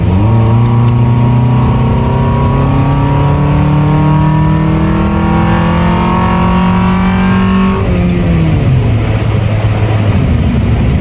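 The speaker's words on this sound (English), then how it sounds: "Oh, who knew a Honda Accord's good to be so beautiful? Someone punching it in a stock car with just an intake." A stock Honda Accord with an aftermarket intake revs hard, a loud, close engine note climbing steadily in pitch for several seconds, then dropping sharply and settling lower as the throttle eases.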